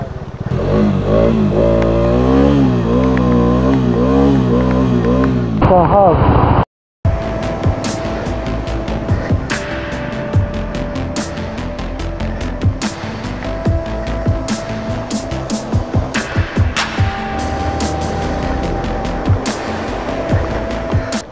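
A motorcycle on a ride through Nepal roars through a small water crossing, its engine revving loudly and unevenly close by, with splashing and rough bursts after a brief cut.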